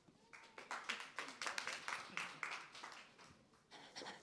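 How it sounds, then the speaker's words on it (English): Sparse applause from a small audience at a startup pitch day, a handful of people clapping in uneven bursts that rise and fall, fairly quiet, with a brief murmur of voices. "Your applause."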